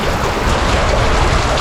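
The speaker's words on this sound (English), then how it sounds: "So that's probably coming down from a separate little waterfall." Water pouring steadily from a small waterfall inside an old stone tunnel at Padley Gorge, a loud, constant broadband rush filling the space with no pauses or talk.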